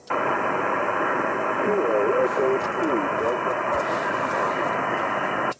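A weak station comes in on the 10 m amateur band through an Icom IC-7300 with a 5/8-wave vertical antenna. A faint voice is buried in loud, steady static hiss that runs the whole time.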